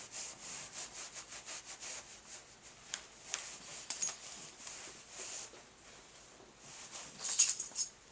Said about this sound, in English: I'm just going to give it another little rub here.